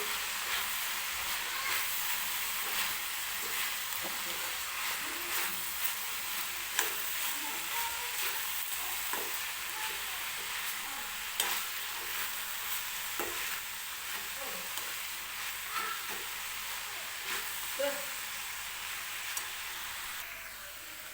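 Spring onion greens tossed with a coconut-garlic powder in a pan over medium heat: a steady low sizzle with faint scraping stirs from a spoon, fairly quiet and continuous, no voices.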